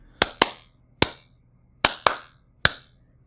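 Six sharp hand claps in an irregular pattern, loud and close with short decays and no other sound, recreated for a Motown recording.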